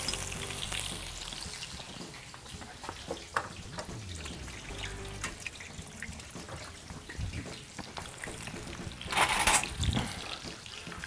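Floured meat pieces deep fry in hot oil, giving a continuous close, crackling sizzle that hisses steadily and swells briefly louder near the end, with no voices.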